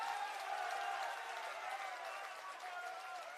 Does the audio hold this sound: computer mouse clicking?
no